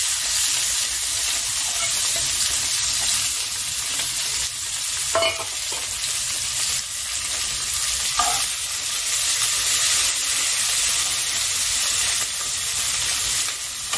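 Chopped onions sizzle in hot oil in a pan, a close, steady crackling fry with occasional stirring scrapes and clinks, and no talking.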